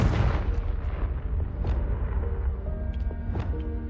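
A Confringo fire spell in Hogwarts Legacy bursts with a heavy booming explosion at the start, then rumbles on with crackling debris and a few lighter pops fading out.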